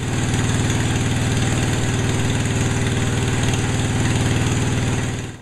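A tractor engine idles steadily through a crude homemade muffler built from fence piping with a small flapper, its low, even throbbing pulse loud and close, running alone without voices for the whole stretch.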